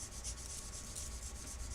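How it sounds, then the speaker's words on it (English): Sandpaper rubbing on a small plastic model part, a soft steady scratching with gentle repeated strokes, quiet and close, no voices. "just sanding on some plastic"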